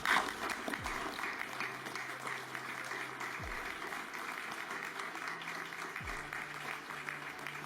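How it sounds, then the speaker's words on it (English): An audience at a security policy speech event applauds steadily, a dense, even wash of clapping that holds at a moderate distance for several seconds without a break. "Please give them a huge round of applause."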